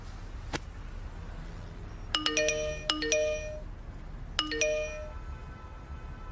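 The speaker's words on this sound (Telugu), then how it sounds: "ఏంటి ఇన్ని మెసేజ్లు వస్తున్నాయి" A mobile phone just switched on with a new SIM card chimes with incoming message notifications: a faint tone, then three bright multi-note chime bursts in quick succession over a quiet background, with no talking.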